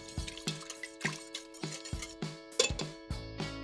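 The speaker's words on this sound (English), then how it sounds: "I'll whisk this together." Spice mixture for barbecue sauce (onion powder, garlic powder, cayenne) being whisked in a bowl, a steady run of close, rhythmic metallic clicks and taps against the container, with no talking.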